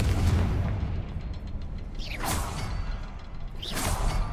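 Confringo fire spell in Hogwarts Legacy, a rumbling low blast followed by two swooshing magical bursts that rise and fade, each a second or so apart, with no talking.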